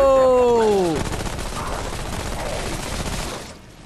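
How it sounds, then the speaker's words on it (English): Gunfire from a gun in the video game Remnant: From the Ashes, a dense burst of rapid shots filling the clip after a brief descending tonal sweep, loud and close. "This gun is so good against these dumbass minions. Shoot in his face."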